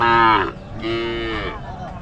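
A cow moos twice at a cattle market, close and loud, a long low bellow followed by another after a short pause.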